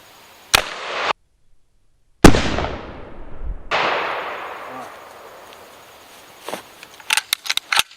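A shotgun fires buckshot at homemade DIY body armor outdoors, a loud close blast with a long ringing decay, followed by a few sharp clicks and clacks.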